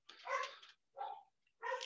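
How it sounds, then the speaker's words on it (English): A pet dog barks three times in the background, short separate yelps spaced by brief silences, faint and somewhat distant. "that is my dog barking in the background"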